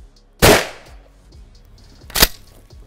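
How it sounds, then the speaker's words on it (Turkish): A firearm loaded with cartridges fired at a brick wall: two loud, sharp blasts about two seconds apart, each with a short decaying tail, and no talking. "İkinci bir atış yapacağız. Biraz daha sağlam bir bölüme doğru."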